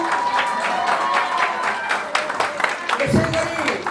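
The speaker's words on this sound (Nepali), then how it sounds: "एकचोटि ताली बजाएर पुनः स्वागत गर्न अनुरोध गर्दछु" An audience claps in scattered, rapid applause to welcome a filmmaker at a school Menstrual Hygiene Week awareness event, with a voice talking over it.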